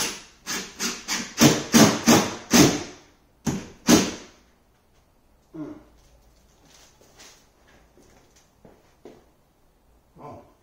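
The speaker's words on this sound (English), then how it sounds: "You just want to pin the corner bead down." Hammer blows pin metal drywall corner bead down during a kitchen cabinet renovation: about ten sharp, close strikes in quick succession, then sparse faint taps and handling noises with long quiet gaps.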